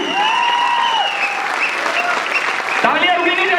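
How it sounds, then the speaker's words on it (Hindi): Sustained audience applause at a poetry tribute event honouring Rahat Indori, steady loud clapping throughout while someone speaks over it. "जोरदार तालियां, तालियां रुकने ना पाए।"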